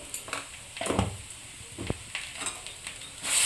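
Masoor dal with greens and a paste of ginger, green chilli and garlic frying in a pan, a soft sizzle with a few stirring scrapes and bumps, close by, ending in a brief louder hiss.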